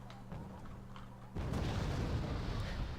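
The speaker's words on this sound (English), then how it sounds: "Is that just some mortar firing?" Mortar fire in a strategy video game battle: a low rumbling boom bursts in about a third of the way through and rolls on as a loud, dense roar after a quieter hum of engines.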